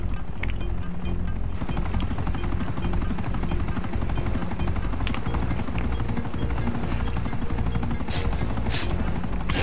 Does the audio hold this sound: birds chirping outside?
no